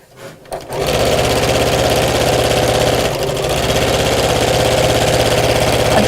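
A sewing machine stitching fleece fabric with a lengthened stitch, starting up after a brief pause and then running at a steady, fast, loud mechanical rattle, with a momentary dip midway.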